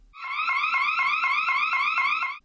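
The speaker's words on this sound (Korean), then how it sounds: "곧바로 사이렌이 큰 소리로 울리고" A loud electronic alarm siren from a restroom emergency alarm wails in steady repeating rising sweeps, close and continuous with no talking.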